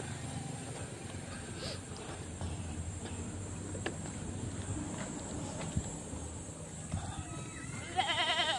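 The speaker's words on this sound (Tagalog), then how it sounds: "Ayan, sinasalubong tayo ng kambing oh." A goat bleats out on a rural property, faint and a little distant over steady outdoor background noise, with a brief louder call near the end.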